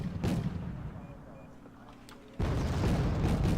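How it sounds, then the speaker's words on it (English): Mortar shells landing in a strategy video game, a booming distant impact followed by a sudden surge of loud rumbling blasts and crackle, with low game ambience in between. "Mortar's just kind of falling."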